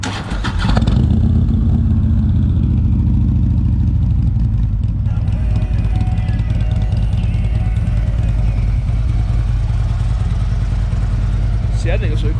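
A Harley-Davidson motorcycle engine starts and settles into a loud, deep, throbbing idle that rumbles steadily for several seconds.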